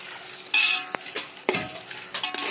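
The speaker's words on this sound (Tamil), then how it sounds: "இப்போது மிக்ஸ் பண்ணிக்கலாம்." Biryani masala is stirred in a pot, giving close scraping and sizzling strokes, with a loud burst of frying hiss early on and a few sharp spoon clicks against the metal.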